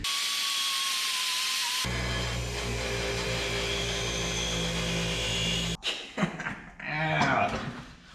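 Power tool stripping powder coat from a 1963 Loadstar control arm, a loud steady whine running for several seconds before cutting off into clattering handling noise.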